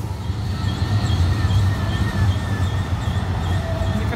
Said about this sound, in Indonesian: Ini keretanya juga beda-beda warna ya.